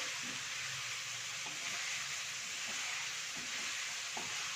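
Quail eggs frying in hot oil, a steady loud sizzle throughout with faint occasional stirring clicks, close by and alone without talk.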